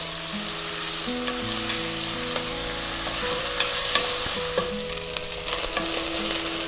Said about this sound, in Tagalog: Siguro, hahaluin ko lang siya ng mga 3 to 4 minutes. Hintayin lang natin siyang mag-brown